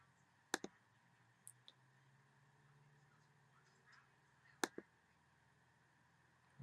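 Computer mouse clicks come in quick pairs, sharp and close, separated by a few seconds of quiet room tone, with a couple of fainter clicks in between.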